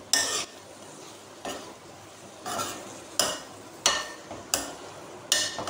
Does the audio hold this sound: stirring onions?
yes